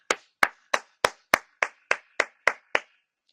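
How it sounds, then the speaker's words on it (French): Ten crisp hand claps in a steady, even rhythm, close and sharp, each one ringing briefly in a quiet room with no voices. "Je vais encore applaudir pour Maman Abigail."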